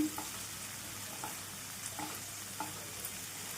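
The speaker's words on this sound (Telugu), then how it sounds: "ఇవన్నీ కూడా ఫ్లేమ్ మీడియంలో ఉంచేసుకొని వేయించుకోండి" Coriander stalks, green chilies and garlic cloves frying in a pan on a medium flame, a soft steady sizzle with a few light stirring scrapes at intervals, fairly quiet throughout.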